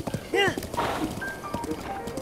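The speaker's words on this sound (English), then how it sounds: "This is obviously a horse that you're manning. It's from gameplay" A horse in the open-world video game Breath of the Wild gallops with quick clip-clop hoofbeats and a brief whinny, set against faint game music, with a voice talking over it.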